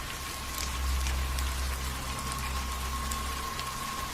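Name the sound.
rain sound effect in a story narration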